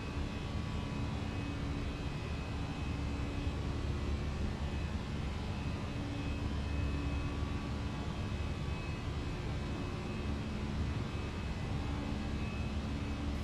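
Steady airliner engine roar at climb power in Microsoft Flight Simulator 2024, an Air Canada flight departing Montreal, a constant broadband drone with no speech.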